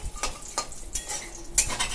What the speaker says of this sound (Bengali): আমি আগে বড়িগুলোকে ভেজে নিলাম